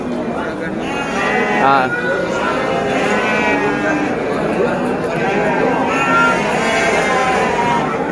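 Garut sheep, ewes with lambs, bleat loudly and continuously at close range, several overlapping calls filling the pen, with a person talking briefly among them.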